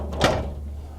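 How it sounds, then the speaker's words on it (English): A hot tent stove door swings shut with a single soft thud and brief rattle, indoors, fairly quiet against a low background hum. "now I can just close this door normally"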